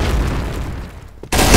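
A grenade blast in the shooter game Point Blank, a short muffled boom that swells then drops away before a sudden loud burst of noise cuts in at the end.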